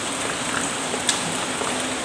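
Steady rain falls at night outside a reputedly haunted rest house, a continuous dense hiss of drops on surfaces with an occasional louder drip, no voices.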